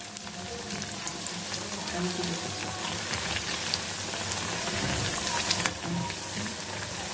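Vadas sizzling in hot oil in a frying pan, a steady crackling hiss with fine popping bubbles, moderately quiet and continuous with no talk over it.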